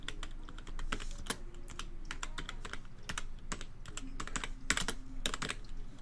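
Rapid, uneven clatter of keys being typed on a computer keyboard, close and fairly loud, with bursts of quicker strokes over a low background hum and no speech.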